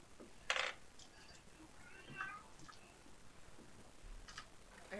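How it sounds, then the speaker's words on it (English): A house cat meows faintly in the background of a tabletop 5e game session, with a short sharp cry and a few softer calls over low room noise and quiet voices. "heard a cat."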